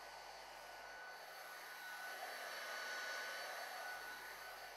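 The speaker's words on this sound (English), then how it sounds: "Heat uniformly, starting from the center, moving outwards towards each breakout in turn." A heat gun blows hot air steadily over a TE Connectivity System 100/System 25 molded transition part, a continuous close whooshing hiss with a faint tonal whine that swells slightly midway and stays alone without talk.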